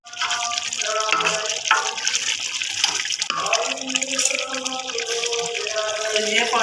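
Leftover chickpea cooking water poured into a pan of freshly roasted black chickpeas, a steady splashing, gurgling flow that runs without a break, with a voice talking over it.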